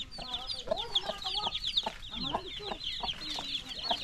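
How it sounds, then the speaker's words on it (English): Chickens and little chicks clucking and cheeping at a family gathering in the Philippines, a busy stream of short clucks and peeps close by, with faint voices in the background. "I want to get these little chicks."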